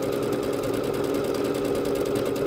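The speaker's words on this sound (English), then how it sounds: "I can already tell it's going to take a little longer to stitch out." A Bernette B-77 sewing machine stitches out an embroidery pattern with a steady, continuous mechanical whir and rapid needle rhythm, close and even throughout, with no talking.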